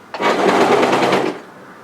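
A sewing machine stitching a fitted tee in one short, loud run of rapid needle strokes lasting about a second, close up and with no talking.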